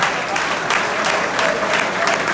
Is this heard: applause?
yes